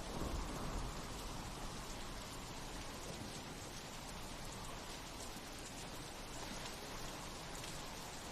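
Steady rain falls in a dense, even hiss with no break, heard quietly from a distance.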